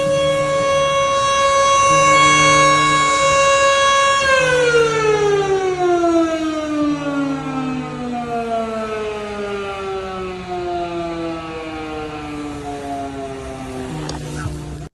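A civil-defense style siren wails steadily in New Jersey, holding a high tone, then winding down slowly in pitch while continuing to sound, loud and sustained with a faint low drone beneath.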